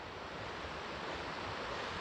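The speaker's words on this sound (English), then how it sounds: "There's a waterfall down there." A waterfall below a river valley on a remote bikepacking route up Mount Lawson, heard as a steady, broadband rush of falling water with some wind, continuous and fairly distant with no voices.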